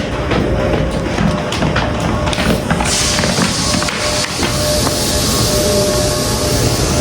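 A train stands at platform 1 of an Australian railway station, a loud, steady rumble with scattered metallic clicks and clanks close by, and no clear voices.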